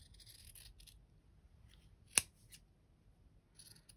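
Scissors trimming fabric scraps for quilting give one sharp, close snip against a faint quiet background.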